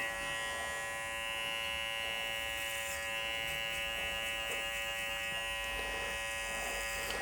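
Electric hair clippers with a number 1 (3 mm) guard buzzing steadily as they cut hair, a close, continuous motor whine with slight shifts as the blade moves through the hair.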